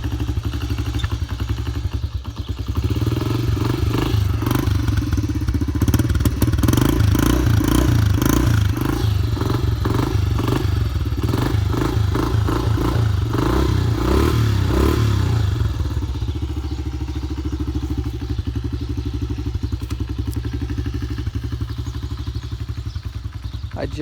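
Honda CRF70F dirt bike engine idling close up, a loud steady chugging putter with rattling clatter, the pulse loosening and smoothing after the choke is turned off.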